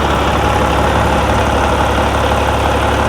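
A racing truck's Cummins engine idles loud and close, a continuous low, rumbling drone with an even knock and no pauses.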